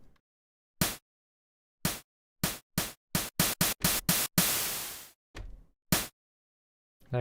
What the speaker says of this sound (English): just some white noise